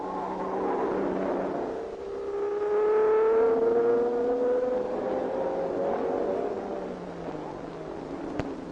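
Race cars at the 1959 Le Mans 24 Hours, with Aston Martins and Behra's Ferrari, an engine note rising in pitch as a car passes and fades, heard at a distance.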